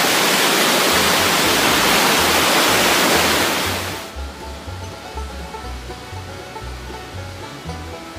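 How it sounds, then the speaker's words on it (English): Creek running beneath the boardwalk shopping street in Ketchikan, Alaska: a steady, loud rush of water that drops to a lower, softer flow partway through, with a low rumble underneath. "this particular creek runs right underneath the entire shopping area here."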